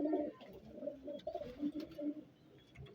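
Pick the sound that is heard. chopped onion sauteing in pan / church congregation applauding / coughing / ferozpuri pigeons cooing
ferozpuri pigeons cooing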